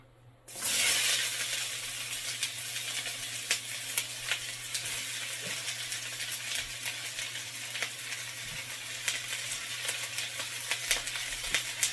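Carrots and onions drop into hot sesame oil with a sudden loud sizzle that settles into a steady, close frying hiss with scattered pops and crackles, under a faint low hum.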